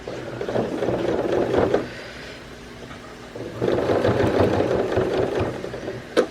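A sewing machine stitches through thick denim on an upcycled jean skirt, running in two steady whirring bursts separated by a short pause.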